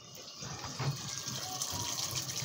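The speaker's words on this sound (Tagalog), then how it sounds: "So, okay na. Nagkakarga tayo ng tubig." Water gushes steadily into a 7.8 kg washing machine being repaired, a continuous splashing flow close by.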